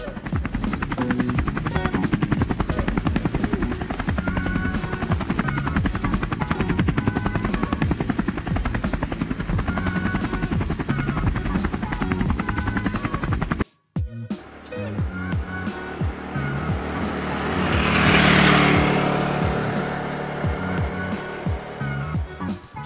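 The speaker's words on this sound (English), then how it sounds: "Helicopter." A helicopter's steady, loud rotor chop and engine whine fill the first half, then another helicopter pass swells and fades with a strong whooshing rise around the middle of the second half, no talk.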